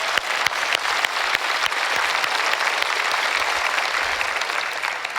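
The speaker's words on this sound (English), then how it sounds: "let's give all of those folks a round of applause." Sustained audience applause at an opioid response summit, a dense, steady wash of many hands clapping at even loudness throughout, with no talk over it.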